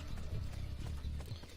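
In the video game Assassin's Creed 2, a horse's hooves clip-clop on the ground in quick uneven beats, close and fairly soft, with a brief neighing mixed into the footfalls.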